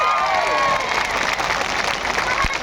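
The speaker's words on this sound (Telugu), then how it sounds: "గట్టిగా చప్పట్లు కొట్టండి" A crowd at a political rally claps loudly and steadily, with some cheering mixed in and voices heard over the applause.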